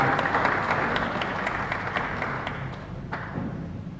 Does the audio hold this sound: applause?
yes